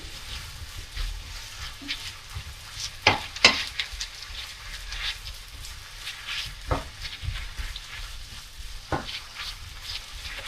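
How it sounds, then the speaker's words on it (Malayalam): Sausage pieces for German currywurst frying slowly in a pan, a soft steady sizzle broken by occasional scrapes and taps of a utensil stirring them, close and moderate in level, no talking. "ഒന്ന് പതുക്കെ ഒന്ന് ഫ്രൈ ചെയ്തെടുക്കാം നമുക്ക്."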